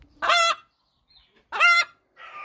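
Chickens in a coop give two loud, close squawking clucks about a second apart, with near-silence between and a fainter call at the end.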